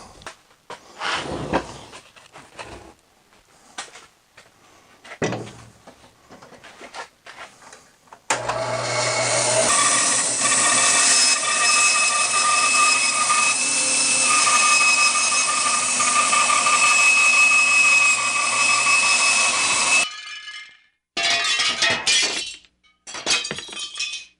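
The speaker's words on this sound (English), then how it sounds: "Once I cut it on the bandsaw, I'll find out." A bandsaw cuts through a wooden bowl blank that has a deep split, giving a loud, steady whining roar of roughly twelve seconds in the middle of the clip, with quieter workshop knocks and handling before and after.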